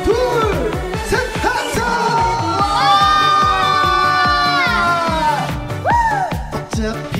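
Crowd of about 3,000 at a live trot music concert shouting a sustained cheer on cue, loud and close, with whoops rising over a steady backing beat.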